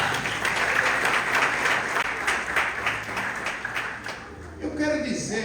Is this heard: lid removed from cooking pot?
no